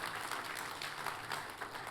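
Church congregation at a worship service applauding warmly, a steady wash of dense clapping at moderate distance, fairly faint and continuous throughout.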